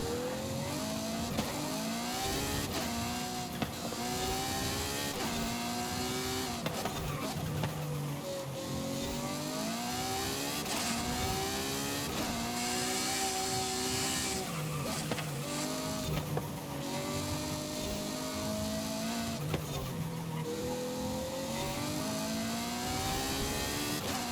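A 1400-horsepower race car engine in Forza Horizon 5 revs loudly and continuously, pitch climbing and dropping through repeated gear changes as it pulls out of corners, with no talk over it.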